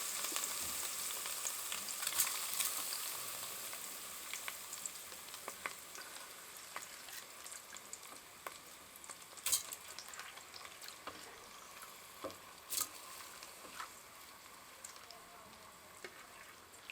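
Washed rice and onions fry in a pot with a steady hiss and scattered clicks of stirring. The sizzle is close and continuous.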